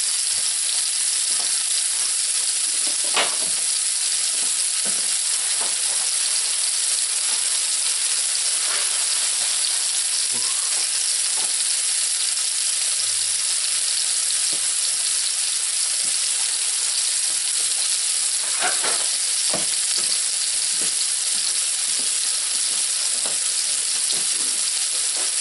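Scallops sear in a pan with no butter, a loud, constant hissing sizzle with scattered crackles and pops that runs steadily throughout.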